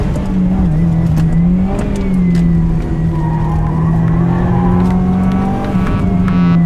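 Subaru Impreza WRX STI accelerating hard on a gravel road, its engine droning loud and steady up close with rising and falling revs throughout.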